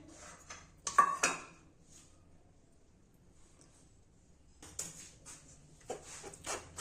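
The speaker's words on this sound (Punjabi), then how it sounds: "ਆਪਾਂ ਇੱਕ ਚਮਚੇ ਦੇ ਨਾਲ ਵੇਸਣ ਆ ਜਿਹੜਾ ਛਾਣ ਲੈਣਾ" A metal spoon works gram flour through a kitchen sieve, giving scattered clinks and scrapes at the start and again near the end, with a quiet stretch between.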